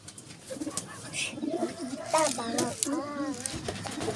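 Pigeons cooing in soft, repeated warbling calls close by, mixed with voices talking over them.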